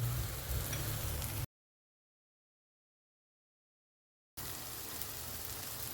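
Spice masala sizzling as it is sautéed in a pan for a bhindi (okra) masala dish, a steady close hiss and crackle that cuts out into silence midway and then resumes.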